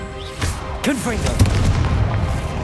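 A Confringo blasting spell explodes in a Hogwarts Legacy troll fight, giving a booming burst with crackling debris over steady battle noise and game effects.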